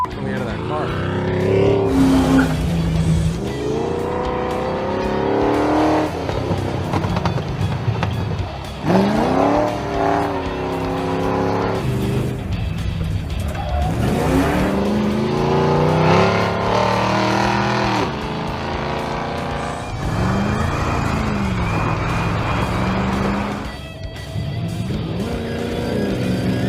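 A 1985 C4 Corvette-Kart drives hard on a racetrack, its engine revving up and down through repeated acceleration sweeps with some tire squeal, loud and close, while people talk over it.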